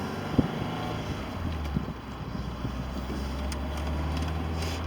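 Strong wind buffets the microphone in a steady rumbling rush inside an open-top 1990 BMW E30 318i convertible, with low engine hum beneath and occasional gusty thumps.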